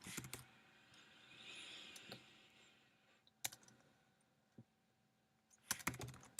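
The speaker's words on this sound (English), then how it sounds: "let's type something like test painting" Sparse keystrokes on a computer keyboard, a quick cluster of clicks at the start, a few isolated taps in the middle and another short burst near the end, quiet and close.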